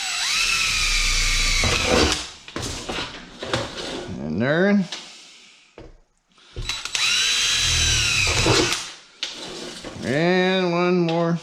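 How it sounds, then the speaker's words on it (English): A power drill bores a hole through wood in a woodshop, whining up in several loud bursts with pitch sweeps as the motor spins up and slows, separated by brief pauses, with a few spoken words near the start. "let's drill this hole right here."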